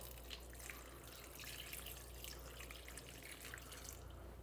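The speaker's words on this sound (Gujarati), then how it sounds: "ઓકે, ચલો પાણી ભરી દઈશું હવે." Water running from a tap into a bowl for soaking ingredients for a date and tamarind chutney, a steady, fairly quiet splashing flow heard alone.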